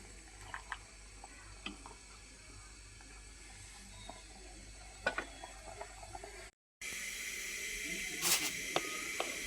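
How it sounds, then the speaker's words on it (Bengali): Chickpeas and boiled potatoes are tempered in hot oil, giving a faint hiss with small crackles; after a brief cut the sizzling returns louder and steadier. "এই তেলের মধ্যে আমি বুটটা বাগার দিয়ে দিব"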